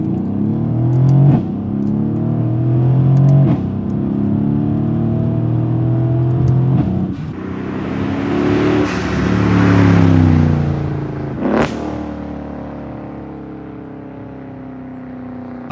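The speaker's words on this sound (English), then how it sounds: "I'm in love with the exhaust note." Mercedes W218 CLS63 AMG with the M157 engine accelerating through several gears, its exhaust note rising in loud sweeping pulls broken by distinct upshifts, then settling to a lower cruise near the end.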